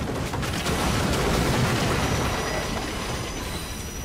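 A steady, heavy rumble of a train moving on rails in a historical action video game fills the scene, loud and close, with faint wheel screech and a slight fade toward the end.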